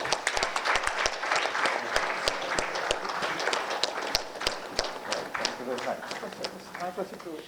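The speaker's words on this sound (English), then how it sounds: "Yes, you can continue to applause." Applause from an audience at a Sri Lankan presentation event, sustained clapping with distinct nearby claps, thinning slightly toward the end as a voice briefly comes in.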